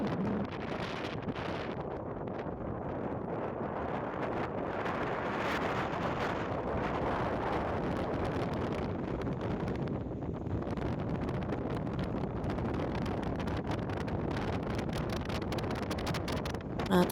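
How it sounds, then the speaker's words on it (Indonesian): A strong, cold wind blows steadily on the slopes of the Kawah Ijen volcano, buffeting the microphone with a constant roar for the whole stretch, and no one speaks. "Karena angin sudah mulai kencang, kayaknya harus turun deh."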